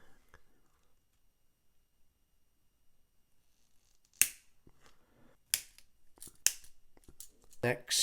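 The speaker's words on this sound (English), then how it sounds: "Next we cut the crank relay rods off the sprue" Sharp snips from cutters or scissors clipping plastic McLaren MP4-23 scale model parts, crank relay rods, off a sprue, several separate clicks after a quiet start, close and fairly loud, with some handling noise between cuts.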